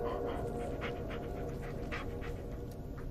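Bullet, the dog companion in the horror game Blair Witch, pants close by in quick rhythmic breaths over a low ambient hum, with no talking.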